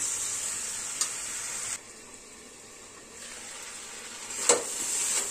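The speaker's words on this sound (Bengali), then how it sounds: "ভাজাটা একটু ভাজা ভাজা করব।" Winter vegetables with turmeric frying in a pan give a steady, close sizzle with a brief quieter dip midway and a couple of sharp scrapes or clinks, with no talking.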